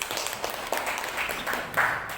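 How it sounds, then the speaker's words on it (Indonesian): Classmates give a student a short round of applause in a school setting, heard as quiet, steady clapping with a few sharper claps near the end. "Tepuk tangan dulu buat Grace."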